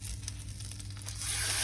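Olive oil and butter sizzle faintly in a preheated frying pan on maximum heat, a soft crackling hiss that swells near the end.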